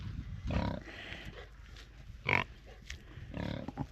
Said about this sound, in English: first bit of wildlife we've seen. Pigs.